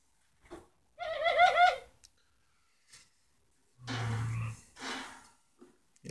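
A tame pigeon coos up close: two soft, throaty coo phrases separated by a quiet pause, with faint breathy rustles between, and no talk.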